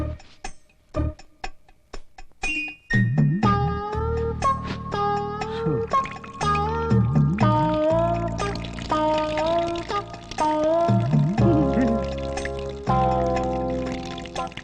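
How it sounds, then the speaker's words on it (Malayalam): A man urinates in a bathroom in a comedy film scene, a brief uneven splashing pour at the start soon giving way to a tinkling musical score that continues under the scene. "അത് ഞാനാ മൂത്രമൊഴിച്ചത്."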